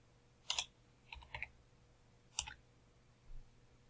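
Several separate clicks and short bursts of keypresses on a computer keyboard, entering numbers during drafting work in NX CAD software, with pauses between the presses and no talk.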